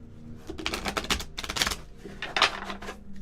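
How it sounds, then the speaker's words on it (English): Tarot cards being shuffled by hand during a live reading, a quick, close run of riffling, clattering bursts in several uneven waves. "Shuffling for Chelsea Manica."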